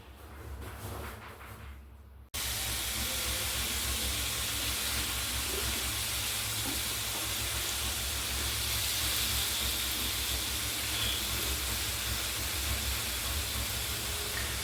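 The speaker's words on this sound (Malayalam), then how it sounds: "ചട്ടിയിൽ എണ്ണ ഒഴിച്ച് അതിൽ റോസ്റ്റിനെല്ലാം ചെമ്മീനും എല്ലാം ഇട്ട് നന്നായി റോസ്റ്റ് ചെയ്യുക." Shrimp frying in oil: after a quieter opening, a loud, continuous sizzling hiss cuts in abruptly and holds steady without pause.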